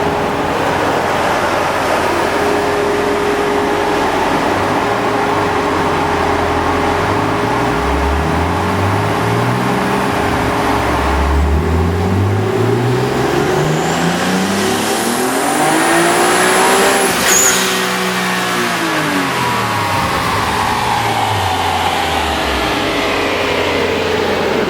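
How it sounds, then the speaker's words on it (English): A car engine revs hard on a dyno during a third-gear pull, loud and close with no talk. The pitch sweeps upward repeatedly, climbs to a high, screaming peak near the end and then drops away. "Okay, John, why don't we do the third gear pull first, now the car's all warmed up."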